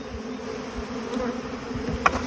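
Honeybees from a shipped package, some dead after sitting hot for days, hum in a steady, close buzz, with a brief louder tap near the end.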